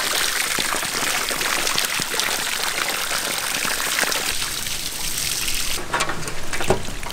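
Water runs steadily while a giant catfish is washed outdoors in a village, a continuous close rushing splash with slight shifts in flow near the end.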